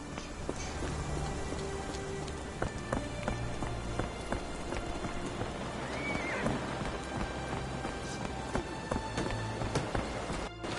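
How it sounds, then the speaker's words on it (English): Dreary rain falls steadily and close by, a dense, even hiss of drops on surfaces, with faint clopping like a horse's hooves in the background and no talk. "This dreary rain is making a miserable day even worse."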